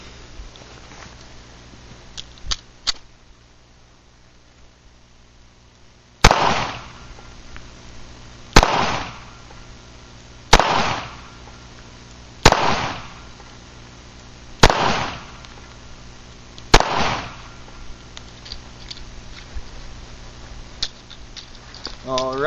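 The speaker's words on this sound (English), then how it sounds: "I'm going to put the full complement of 6 rounds into each target." A Taurus TCP pistol fired at a target about seven yards away, six loud sharp shots spaced roughly two seconds apart after a few faint clicks, each with a short echoing decay.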